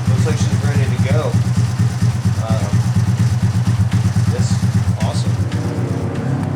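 A rebuilt Honda Grom motorcycle engine idles roughly on a rough tune, a loud, steady, uneven chugging that carries throughout with faint background noise.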